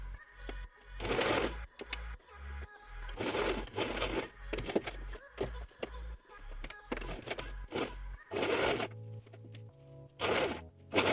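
A sewing machine stitches a portfolio-style fabric pocket in repeated short bursts of rapid whirring, separated by brief pauses, fairly close and moderately quiet, with no talk.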